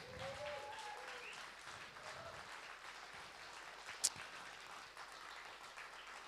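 A conference audience applauds the organizer at a cultural forum, a steady, moderately distant wash of clapping that holds evenly throughout, with one sharp isolated click near the middle.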